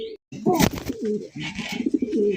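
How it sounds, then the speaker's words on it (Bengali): A male Jhorna satin pigeon coos in a few close, low rolling phrases, with a short pause near the start and brief bursts of other noise around the calls. "ঝর্ণা শাটিন কবুতর দেখেন, নরের ডাক দেখেন"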